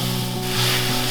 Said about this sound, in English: We're gonna brown 2 pounds of ground beef.